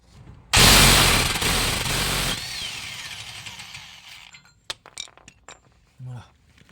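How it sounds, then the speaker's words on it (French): An impact wrench with a heavy-duty socket loosens the hub nut on a Renault Kangoo II 1.5 dCi. It gives a loud, close burst of about two seconds, followed by scattered metallic clinks and tool handling. "vous allez pouvoir le retirer qu'avec une clé à choc"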